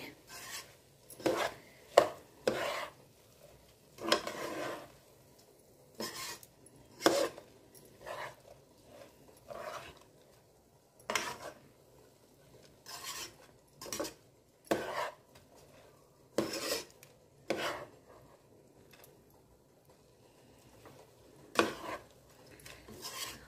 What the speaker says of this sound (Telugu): రైస్ వేసి ఇప్పుడు మొత్తం మసాలాతో కలిపి మిక్స్ చేసుకుందామండి.